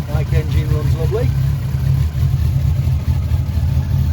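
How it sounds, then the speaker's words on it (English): A Bond Bug car engine with a race cam idles steadily and loudly close by, a low continuous rumble with brief talking over the first second or so. "engine runs lovely"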